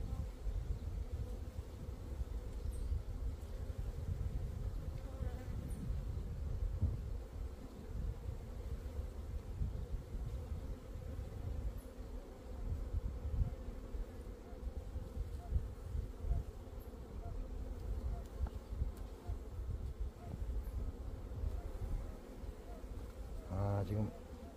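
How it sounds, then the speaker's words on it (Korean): Honeybees crowding hive frames while building comb, a continuous low buzzing drone throughout, close and fairly loud, with occasional faint handling noises. "지금 2번 장하고 3번 장에 벌이 몰려서 집 짓고 있는 거네."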